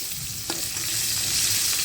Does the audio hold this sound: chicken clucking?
no